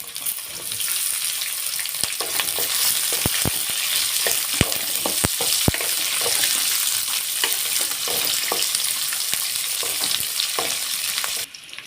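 Two large chopped onions sizzle in a pan over garlic that has already browned, a steady loud crackling fry broken by sharp clicks and scrapes of stirring, with no voices.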